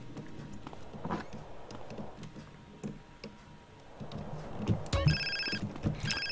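A telephone rings inside the video game GTA San Andreas, a repeating electronic ring arriving near the end, loud over game background noise.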